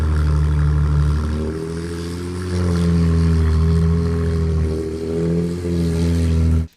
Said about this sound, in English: with the exhaust note running in the background, and it sounds pretty loud